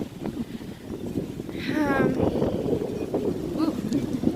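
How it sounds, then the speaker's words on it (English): Heavy low rumbling wind buffeting the microphone continuously, with a voice briefly heard over the blustery noise. "It's just so windy"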